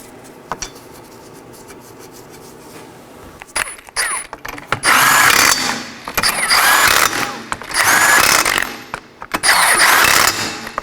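Five 21mm lug nuts go back onto a Nissan Sentra wheel: loud metallic bursts of spinning and rattling arrive in repeated rhythmic runs after a quiet start, with sharp clicks in between.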